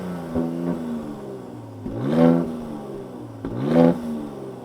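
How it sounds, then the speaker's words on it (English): A Mercedes-AMG C43 exhaust barks through a few rev blips, each a sharp rise and fall in engine note, heard close and fairly loud, with no talking. "Here's what it sounds like."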